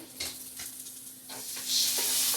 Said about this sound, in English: our veggies are definitely beginning to saute